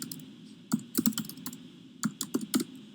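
Light clicking keystrokes on a computer keyboard while typing commands into a terminal, close and fairly quiet, in short irregular bursts over a low steady hum.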